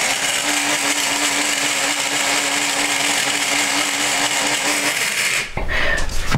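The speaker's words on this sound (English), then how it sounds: "So now what I do is I transfer it to something that's smaller, namely a coffee grinder." Loud, continuous whirring of an electric coffee grinder running at full speed, grinding herbs into powder, then cutting off abruptly into a clatter near the end.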